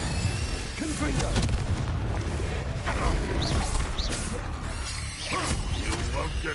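Confringo fire spells blast in the Hogwarts Legacy video game, producing repeated booming bursts and crackling impacts over a dense, continuous battle din.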